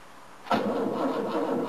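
An old car engine cranks briefly and then catches with the choke pulled, settling into a steady, loud running roar close by.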